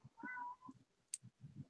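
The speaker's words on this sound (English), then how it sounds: "And get this, Dakota, is that your cat?" A house cat meows once in a clear, drawn-out call, with a short high chirp moments later, while low background chatter rumbles underneath at a moderate distance.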